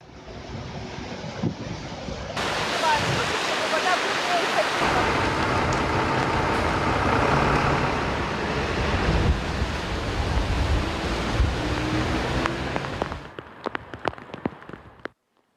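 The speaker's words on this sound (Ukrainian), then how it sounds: "На этой неделе в городе случился потоп." Floodwater rushes through city streets in Odesa after a downpour, a loud, steady roar of churning water with gusty wind noise that swells in and then cuts away near the end.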